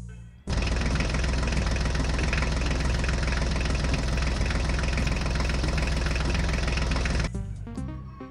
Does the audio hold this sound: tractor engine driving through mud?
yes